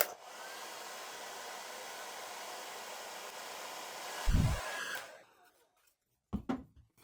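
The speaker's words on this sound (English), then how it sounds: "Hair dryer, whatever your favorite hair dryer is, medium heat." A hair dryer on medium heat blows while drying and brushing a beard, a steady close whoosh that holds for several seconds, then a few bumps and handling knocks before it cuts off.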